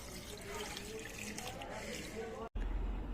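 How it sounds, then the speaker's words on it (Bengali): Rice-washing water poured from a container onto a plant outdoors, a steady splashing trickle running for a few seconds before a brief break and then continuing. "চাল ধোয়া জলটা এবার গাছে দিয়ে দেবো।"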